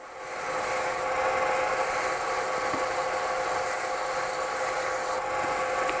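Sandpaper of 220 grit rubs steadily over an acrylic pen blank, a continuous close hiss of sanding with no breaks or voices.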